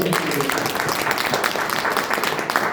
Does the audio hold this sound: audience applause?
yes